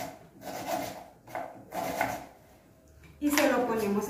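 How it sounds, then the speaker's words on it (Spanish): A knife slicing an onion into thin rounds on a board, a few soft scraping, rubbing cuts spaced out at an uneven rhythm, close by, with a voice speaking near the end. "Igual la cebolla. Hacemos lo mismo. La partimos así en rebanaditas."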